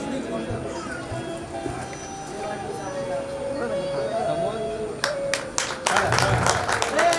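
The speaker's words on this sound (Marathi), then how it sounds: "दिलीप खुडेसाठी जोरात टाळ्या होऊ द्या" A crowd at a staff gathering bursts into clapping for Dilip Khude; loud applause breaks out near the end after a stretch of talking over a public address system.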